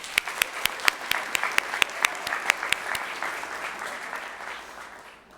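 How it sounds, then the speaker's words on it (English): An audience at a school board meeting claps together in a brief round of applause, with sharp distinct claps at first that thin out and fade over about five seconds. "Let's have another round of applause."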